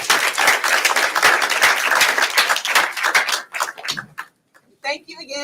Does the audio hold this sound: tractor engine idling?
no